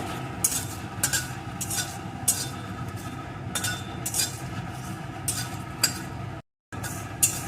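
A spatula stirs a bay leaf, dried red chillies, cardamom pods and cumin seeds roasting in a pan. Regular metallic clinks and scrapes sound over a low, steady hiss, and the sound drops out briefly near the end.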